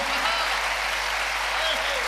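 A large audience at a poetry celebration in Kolkata breaks into loud, sustained applause, a dense and even wash of clapping that holds for the whole moment.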